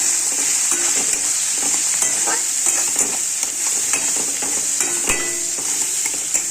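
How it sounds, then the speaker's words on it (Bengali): Chopped onion frying in oil in a pan for a potato curry, a steady close sizzle with soft intermittent scraping and stirring taps. "পেঁয়াজ কুচিটা একটু লাল লাল করে ভাজতে হবে"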